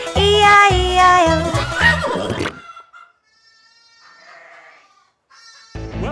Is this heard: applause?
no